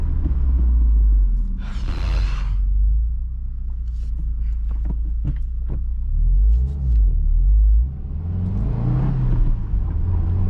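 A car engine pulls hard in third gear, a loud, close, steady rumble rising and falling with a few brief mechanical clicks and a whooshing surge near the end.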